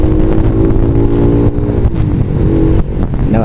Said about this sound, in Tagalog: nagmamaniho na naman tayo ng motor